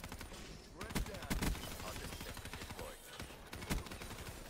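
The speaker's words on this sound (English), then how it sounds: "I was shooting the sentry gun instead of the enemy" Gunfire in Black Ops 3 aimed at a sentry gun: sharp shots crack out in quick, uneven bursts, loud and close over a busy game background.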